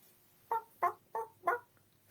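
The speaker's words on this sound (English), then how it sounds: "A chicken is what I found." A chicken clucks four times in quick succession, short, evenly spaced calls close by against a quiet background with no talking.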